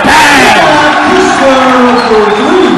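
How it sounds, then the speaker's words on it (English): A high school basketball crowd at a La Salle vs. Bishop McDevitt game roars loud and close, a continuous mass of yelling and whooping voices that fills the whole clip without letting up. "listen to this crowd roar"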